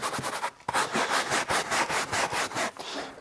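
Rapid rhythmic back-and-forth scrubbing, a stiff brush rasping against fabric around a speaker grill inside a Mini Cooper F56 JCW, in quick, even strokes, close and loud.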